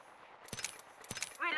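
Two quick bursts of gunfire from Apex Legends, quiet and somewhat distant, followed by a brief voice at the end.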